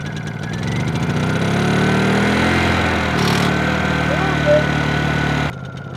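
A 1948 Willys Jeep engine runs close by, a steady mid-pitched idle that is revved up for more RPM, then cuts off abruptly near the end.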